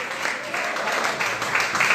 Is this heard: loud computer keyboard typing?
no